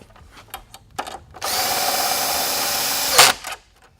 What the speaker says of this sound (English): make sure you use a drill with an adjustable clutch